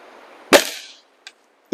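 A Diana 34 air rifle fitted with a Macarri tune kit fires one shot, a single sharp loud crack with a short fading tail, then a small click and another snap close by.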